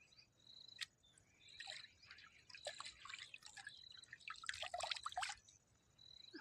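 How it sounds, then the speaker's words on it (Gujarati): Water splashes and drips as fresh fenugreek leaves are washed by hand in a village kitchen, with soft irregular trickling and dribbling sounds, fairly quiet and without speech. "હવે આપણે મેથીને ધોઈ નાખશું।"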